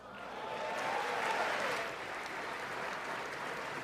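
A gallery audience applauds at a formal address honoring a veteran, a broad, sustained wash of clapping that swells then settles, heard from some distance.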